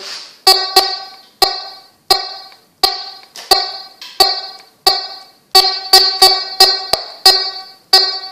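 Choppy metal detector signal tones cut in and out in repeated sharp bursts, each a harmonic beep with a crackling attack, irregular in rhythm and fairly loud.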